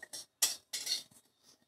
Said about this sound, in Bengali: 7 মিনিট আমি এভাবে নাড়াচাড়া করে ভালো করে ভাজা করে নেব।